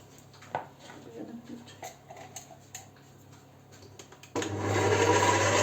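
An electric mixer beating egg whites with a pinch of salt starts up abruptly after a few quiet clicks and knocks, then whirs loudly and steadily close by.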